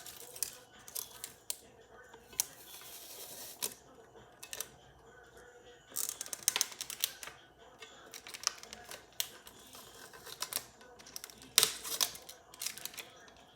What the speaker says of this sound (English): So I just use scissors and work my way around of getting it off.